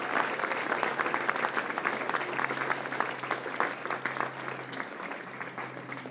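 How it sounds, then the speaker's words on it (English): A crowd at a school ribbon-cutting ceremony claps steadily for the students, a dense, even round of applause that carries on throughout without speech. "Can we give them a round of applause as well?"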